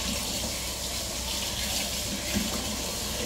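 Steady stream of tap water running into a kitchen sink while dishes are washed, a continuous close rushing gush with no talk.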